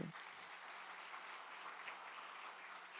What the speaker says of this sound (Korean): 우리 박수 한번 크게.